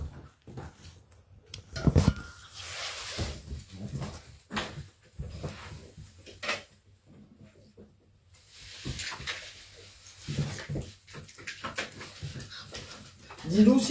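A dog whimpers and pants softly nearby in intermittent short bursts, with bumps and a person talking over it.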